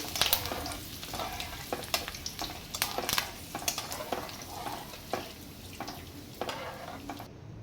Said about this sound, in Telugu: జీడిపప్పు అనేది ఈ కలర్ వచ్చేంత వరకు వేయించుని పక్కన పెట్టుకోవాలి అదే ఆయిల్లో కరివేపాకు కూడా వేసుకుని వేయించి తీసుకుని కలుపుకోవాలి